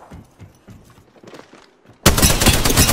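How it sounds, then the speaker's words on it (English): Apex Legends gunfire erupts suddenly as a loud, dense burst of rapid shots after quieter footsteps and movement sounds, continuing to the end. "Opening fire."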